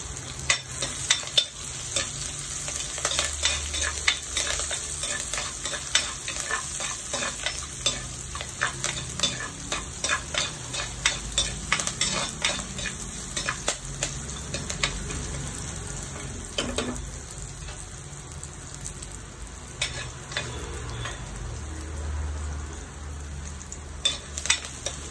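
Curry leaves frying in a pan of hot oil for a fish curry, a constant sizzle broken by repeated sharp scrapes and taps of a spoon stirring against the pan.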